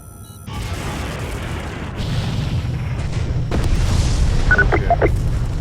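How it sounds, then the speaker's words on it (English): A Vasudan ship explodes in the space combat game Freespace 2: a loud, deep, sustained rumbling boom that swells and builds over several seconds, with brief electronic beeps near the end and no speech. "Sir, this Vasudan ship just exploded as we finished the scan."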